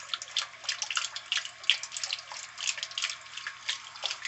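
A new Whirlpool washing machine drains water in a steady, splashing and gurgling flow, close up and fairly faint, without any voices.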